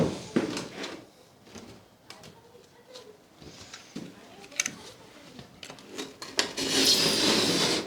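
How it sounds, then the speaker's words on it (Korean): Knife blade cutting through GCS insulation board during a DIY insulation job, heard as a series of dry scraping, rasping strokes with brief gaps, close by and moderately loud, rising to a steadier harsh scrape near the end. "420, 420에 칼로 한번 잘라 볼게요."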